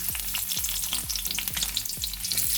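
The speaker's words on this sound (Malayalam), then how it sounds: "എണ്ണ ചൂടായിട്ടുണ്ട്. ഇതിലേക്ക് നമുക്ക് വെളുത്തുള്ളി ഇട്ട് കൊടുക്കാം." Four or five small cloves of chopped garlic fry in hot oil, a busy crackling sizzle with rhythmic stirring strokes against the pan, close and steady with no talking.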